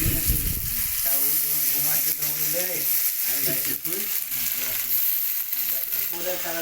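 Spices for egg curry fry in hot oil with a steady sizzle, while faint voices and radio music play in the background throughout.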